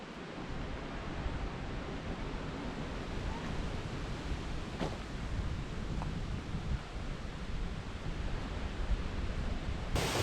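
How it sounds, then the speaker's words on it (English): Waterfall in a Costa Rican cloud forest along the Continental Divide, a steady, dense roar of falling water filling the whole stretch with no break and no voices. "as you can tell by the sound of water, I've made it to the waterfall"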